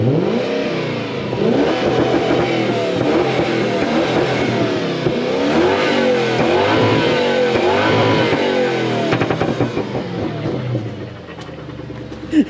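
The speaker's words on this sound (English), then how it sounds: "Give it a rev." A Lexus LS430 engine with a reflashed ECU and pops and bangs tune revs repeatedly, rising and falling in loud, close sweeps, with crackling pops toward the end.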